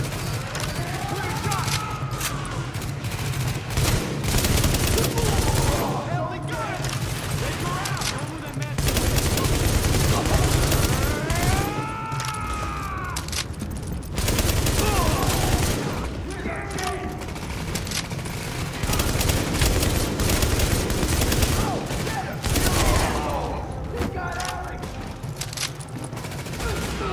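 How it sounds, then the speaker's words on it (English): Heavy sustained gunfire from a rooftop gunner in The Division video game, dense bursts of rapid shots filling the whole stretch with loud in-game voices shouting over the firefight. "escort party's taking heavy fire from the roof"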